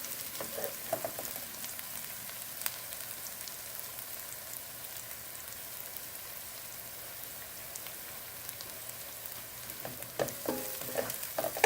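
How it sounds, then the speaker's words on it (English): Garlic and ginger fry in a pan over medium heat for a chicken curry, giving a steady, close sizzle and crackle that continues for about twelve seconds without speech. "garlic ginger doesn't take too long to cook"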